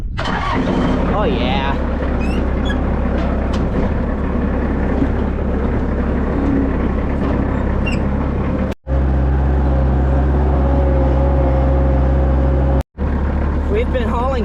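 A farm tractor used for hauling manure cranks over and fires up, then settles into a loud, steady diesel idle. It stays close and running throughout, with one brief cut, and someone speaks briefly over it.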